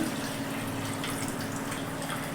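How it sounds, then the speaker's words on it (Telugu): Water is poured into a pressure cooker holding washed rice for sambar rice, a continuous splashing, gurgling stream that stays steady and close from start to finish. "ఐదు గ్లాసులు వాటర్ పోసుకోవాలి"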